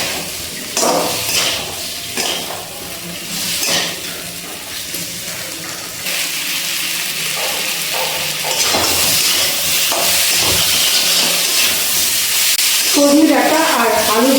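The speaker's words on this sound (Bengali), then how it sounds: "এবার এর মধ্যে ভেজে রাখা আলু আর সজনে ডাঁটাগুলো দিয়ে দিচ্ছি। এবার খুব ভালো করে আবার একটু কষিয়ে নিচ্ছি।" Fried potatoes and drumstick pieces sizzle loudly as they are sautéed with spices in a pan, with steady frying hiss and stirring scrapes throughout. Utensil clinks come close up near the end.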